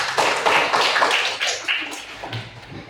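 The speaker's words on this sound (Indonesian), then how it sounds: "Tepuk tangan anak-anak." A class of children clapping their hands in a classroom, a dense, uneven patter of many claps that stays loud, then thins out toward the end.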